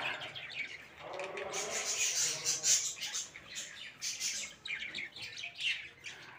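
Birds squawking and chirping while feeding in winter, a busy run of sharp, close calls with short pauses, plus a faint patter.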